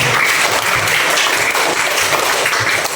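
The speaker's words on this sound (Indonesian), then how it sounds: "tepuk tangan untuk kita semua" A class in a teacher-training session breaks into loud, continuous applause, many hands clapping densely and close for the full few seconds.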